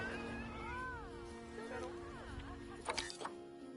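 A snow leopard kitten in the zoo game Planet Zoo calls with several rising and falling mews, soft and close, followed by a couple of brief louder bursts near the end.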